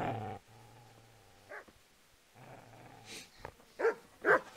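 A dog in the medieval video game Kingdom Come: Deliverance gives low, steady growls, then breaks into a few sharp barks and yips near the end, with no talk over it.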